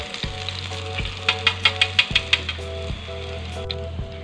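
Chicken pieces frying in hot oil for a second round, a steady close sizzle with a run of sharper crackles and pops bursting through the middle, no talking.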